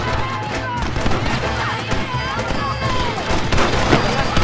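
Gunfire in a Red Dead Redemption shootout, a dense rapid volley of sharp shots and booms crowding each other, with shouted voices mixed into the loud battle din.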